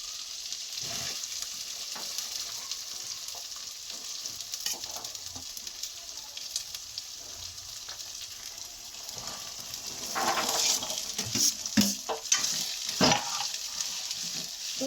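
Fresh green corn and ginger-garlic paste stirred in a frying pan, a steady low sizzle with repeated scraping strokes that grow louder and busier toward the end, with no voices.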